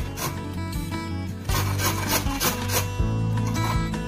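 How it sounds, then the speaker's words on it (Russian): Pepper rasped against a metal grater while a vitamin salad of Chinese cabbage is prepared. The scraping strokes come close and loud in a steady back-and-forth rhythm, with no one talking. "Скорее всего, я, наверное, его натру на терке."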